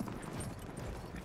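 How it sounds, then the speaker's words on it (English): Horse galloping in the Battlefield 1 video game, a rapid, dense rumble of hoofbeats under broad battlefield noise, steady and close throughout the short stretch. "My first time riding this horse"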